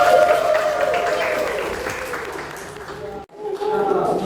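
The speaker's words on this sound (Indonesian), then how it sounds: "Tepuk tangan untuk kita semua." Classroom applause from architecture students at a teaching session, a broad wash of clapping that fades toward the end, briefly drops out, then swells again, with voices and talk mixed in throughout.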